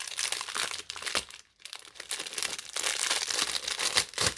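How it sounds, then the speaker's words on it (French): Silicone molds for crafting being unwrapped from their packaging, a steady run of loud crinkling and rustling plastic wrap with a short pause partway through, close and alone. "Je vais tous les déballer avec vous, hein, tant qu'à faire."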